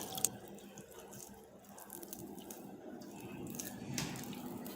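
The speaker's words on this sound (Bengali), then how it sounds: "এখন অল্প অল্প করে পানি দিয়ে একটা ডু তৈরি করে নেবো" Soft wet squishing and dripping as water is worked into flour-and-egg dough by hand, a low continuous mushy texture with occasional small splashes, close up.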